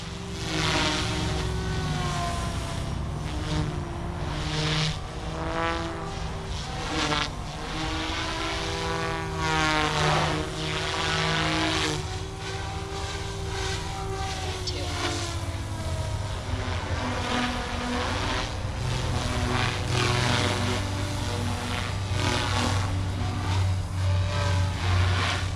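SAB Goblin 380 KSE radio-controlled helicopter with a new, more powerful motor on its maiden flight: a loud, continuous rotor whine and drone whose pitch rises and falls as it manoeuvres, heard alone without speech.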